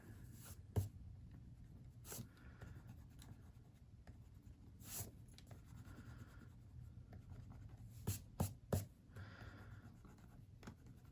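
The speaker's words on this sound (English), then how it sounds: "erase these guidelines here." Pencil guidelines rubbed out on paper with an eraser, quiet close scrubbing strokes in short bursts separated by light taps and pauses, no talk.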